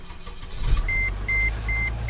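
A car engine starts on a cold morning of about 4 degrees: a low rumble catches and settles into an idle, with repeated electronic beeps from the dashboard above it.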